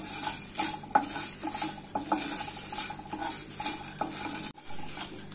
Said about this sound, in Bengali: এবার আমি এই মশলাটা নেড়েচেড়ে একটু গরম করে নেব